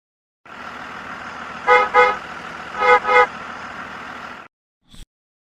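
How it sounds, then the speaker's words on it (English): A bus idles with a steady engine hum, its horn sounding two double honks, then a short thud at the end, with no talk. "Bus."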